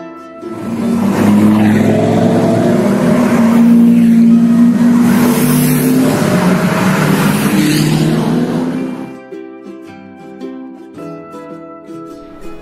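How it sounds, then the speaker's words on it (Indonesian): A car engine roars steadily and loudly for about nine seconds, rising and sustained like a revving run, then cuts off, leaving a quieter tail with faint tonal ringing. "C is for car"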